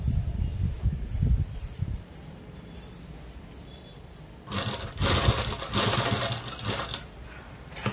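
Sewing machine stitching a four-shape-neck blouse cut from saree fabric: a soft mechanical whir, faint at first, then a louder steady run of rapid stitching for a few seconds before easing off.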